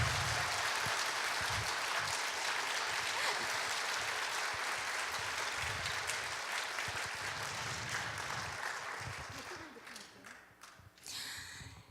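An audience at a Friday worship concert gives steady, sustained applause for a pianist, a dense wash of clapping that fills the room before tapering off near the end.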